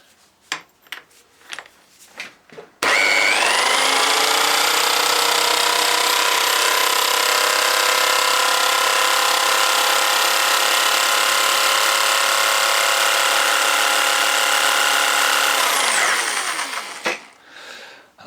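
A power drill with a socket spins a Mitsubishi Shogun alternator on the bench, a loud, steady high-pitched whine held for about thirteen seconds before winding down, preceded by a few short clicks and taps.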